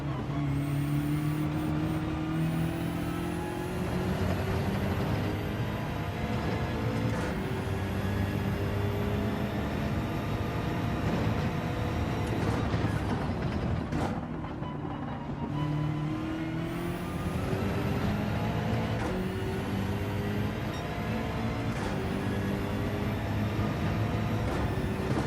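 A BMW race car in Gran Turismo 7 daily races drives steadily at speed, its engine droning and revving up and down through repeated gear changes, loud and continuous throughout.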